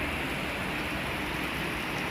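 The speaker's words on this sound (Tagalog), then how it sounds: "Sobrang lakas po nitong ulan na ito" Heavy rain pours down in a sudden mid-morning downpour in the Philippines, a dense, steady roar of falling water that stays constant and loud throughout, with no other sounds breaking through.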